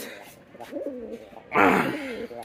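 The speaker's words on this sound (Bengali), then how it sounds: "কবুতরগুলা দেখেন সবগুলা গোসল করতে চাইতেছে" Pigeons in a pigeon loft give a few low, throaty coos, followed by a sudden burst of rustling or splashing noise as they bathe.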